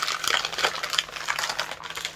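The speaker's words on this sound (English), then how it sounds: "we're going to try and break into this without scissors." A mail package is torn open by hand without scissors, with continuous crinkling, ripping and rustling of paper packaging up close.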